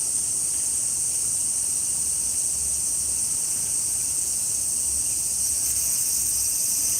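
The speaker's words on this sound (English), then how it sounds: "Can't see any other ones, but the sound is incredible. It's like a symphony of bugs." A loud, steady chorus of insects fills a Japanese garden, a dense high-pitched buzzing drone that holds continuously without a break.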